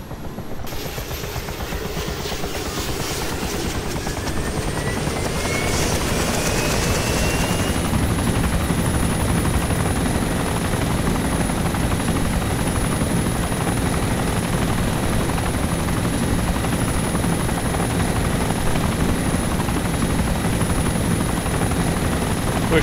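Helicopter in the DayZ Mod video game powering up, a rising turbine whine settling into a loud, steady rotor drone that fills the whole stretch, close and constant.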